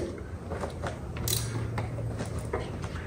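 Lug nuts being snugged down by hand on a tractor wheel after a blowout, a series of soft metallic clicks and ratcheting creaks at close range, with no talk.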